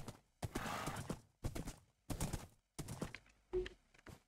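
Horse from the Minecraft video game clip-clopping in bursts of hooves with a whinny near the end, game sound effects heard alone without talk.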